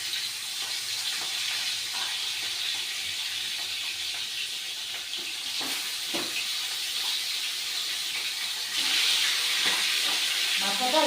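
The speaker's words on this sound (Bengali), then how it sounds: "দেখো তেলটা গরম হয়ে গেছে," Fish pieces rubbed with turmeric and salt sizzle in hot oil in a home kitchen, a steady broad hiss running throughout with faint crackles, swelling louder near the end as more fish goes in.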